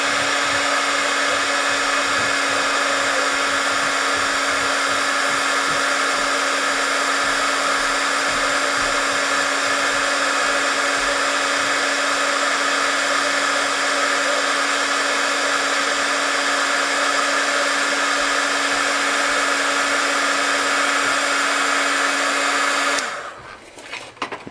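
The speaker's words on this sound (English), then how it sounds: "I've got this craft heater. I'm going to heat it up till it gets rubbery enough" A craft heater warming old flex coat on a fishing rod guide blows a loud, steady, close whirring hiss that runs unbroken for over twenty seconds before cutting off.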